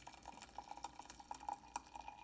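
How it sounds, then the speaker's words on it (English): Water poured from a kettle into an antique Kutani teapot for brewing Keemun black tea, a faint, close trickle of small splashes and drips, quiet, with no speech. "Now, pour me some water."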